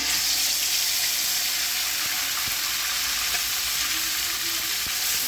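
Food hits a very hot frying pan, giving a loud, dense, unbroken sizzling hiss that holds steady throughout, with faint clinks underneath and no voices.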